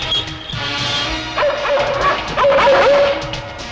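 A dog blocks the road in a Telugu film scene, letting out repeated yelping barks and whimpers over a busy, noisy background.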